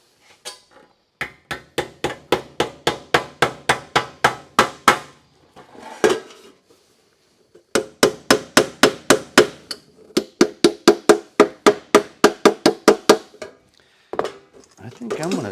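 A hammer taps a 45-degree-cut sheet metal drawer for a tool tray in an evenly spaced string of sharp, ringing metallic strikes. Two long runs are split by a brief pause, and the sound is close and clear.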